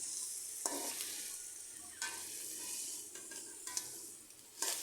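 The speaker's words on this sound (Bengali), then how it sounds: "মশলার সাথে আবার ভালো করে কষিয়ে নিচ্ছি" Crab is stir-fried with spices in a pan. A hot sizzle runs throughout, broken by several bursts of spatula scraping and stirring at close range.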